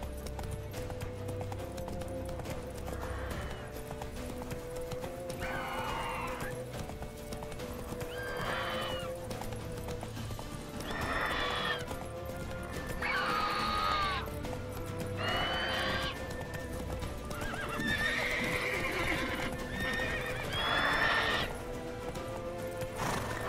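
Roach, the horse in the video game The Witcher 3: Wild Hunt, galloping with steady hoofbeat clip-clop while repeated loud neighs and whinnies ring out over it at close range.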